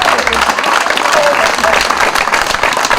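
Dense, steady applause from a crowd at the doublette Jeu Provençal final of the 2014 French pétanque championship, filling the whole stretch at close range with voices mixed in.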